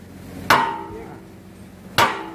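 Two sharp metallic hammer blows, spaced about a second and a half apart, drive a bushing into the bucket linkage of a Komatsu PC excavator, each strike ringing out briefly, close and loud.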